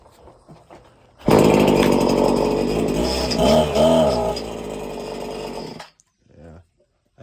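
A Husqvarna 525L string trimmer engine, with its gear head being replaced, roars to life abruptly and runs loud and steady for about four seconds, then cuts off, leaving a few faint sounds.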